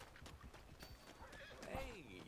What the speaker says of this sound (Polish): No i koń. On tu chyba przyleci.